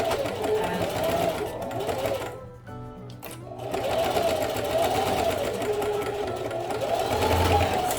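A sewing machine back-stitches over a D-ring strap to reinforce it. The motor hums loud and close in two runs, with a short pause near the middle where the machine stops briefly before starting again.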